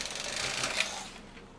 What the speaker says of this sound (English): And your carriage should glide across the stitches on hold, just like that.